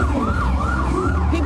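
An ambulance siren from Brewster Ambulance Service, Braintree's town ambulance, wails loud and close in steady rising-and-falling sweeps at an Independence Day parade, with a deep engine rumble beneath.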